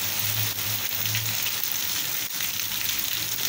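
Heavy rain pours down in Passira, Pernambuco, a steady dense hiss of drops on surfaces with no talking, close and continuous throughout.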